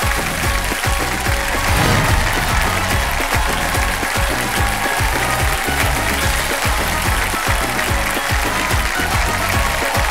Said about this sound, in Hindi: मैं चाहता हूं कि जोरदार तालियों से स्वागत किया जाए नई पीढ़ी के सुपरस्टार्स